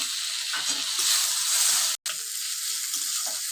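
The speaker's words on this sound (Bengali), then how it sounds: "টমেটোটা ভালো করে মশলার সাথে কষিয়ে নিচ্ছি" Chopped tomato fries with red chilli powder and spices in a pan for a Bengali pabda fish curry, giving a steady, close, loud sizzle that drops out for a split second midway, with no talking.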